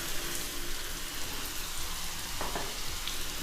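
Spiral-cut potato frying in hot oil over a medium flame, giving a steady, dense sizzle that runs unbroken from start to finish, with a couple of faint clicks near the end.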